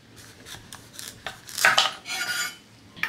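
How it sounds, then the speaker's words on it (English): A kitchen knife cuts through a washed butternut squash on a chopping board, making several sharp scraping and crunching strokes up close, with a louder rasping cut in the middle and a final tap. "what I'm going to do is split them in half. Cut the ends."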